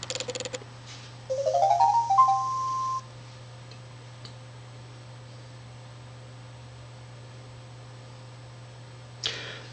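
A Motorola FONE F3, a slim phone with a flat keypad, plays a short rising electronic power-on melody of a few bright tones that ends in a held note, then low steady hum with a faint click near the end.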